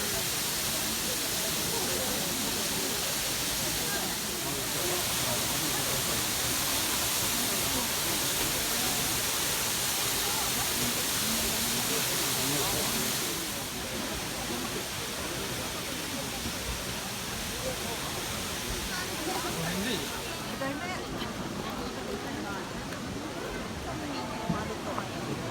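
Mino Falls in Japan roars with a steady, dense broadband wash of falling water, loud and continuous for the whole stretch with slight shifts in texture, and a voice speaks faintly over it.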